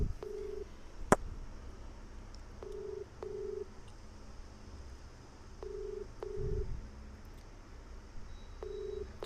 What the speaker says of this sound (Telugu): రింగ్ అవుతుంది నెంబరు.